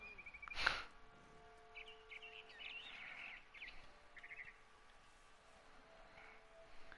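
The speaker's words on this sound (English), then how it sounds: "Then I heard chirping outside my window." Barn swallow chirps from the video game What Remains of Edith Finch: several short, high twittering bursts come and go over a quiet background hum, with a brief louder rustle early on.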